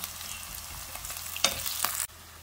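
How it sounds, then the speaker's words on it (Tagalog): Garlic and onion sauté in a hot pan for fish soup with a steady close sizzle, broken by a couple of brief stirring scrapes before the frying noise suddenly drops lower. "Igigisa mo ngayon yan hanggang sa talagang mag-brown siya."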